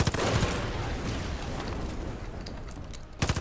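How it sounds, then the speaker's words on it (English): Gunfire aimed at a barrel in Far Cry 5 crackles as a dense, loud volley with mechanical clatter and rumble, fading toward a quieter stretch before a few more sharp shots close it out. "So we're going to destroy the smokestack and just shoot the barrel."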